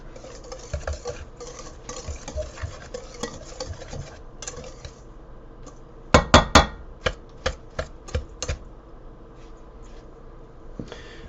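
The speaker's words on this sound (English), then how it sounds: "sprinkle it across while you're whisking it like mad" A whisk beats xanthan gum into a bowl of wet ingredients, a soft rapid patter of clicks that swells into a burst of sharp, close taps partway through, with no voices.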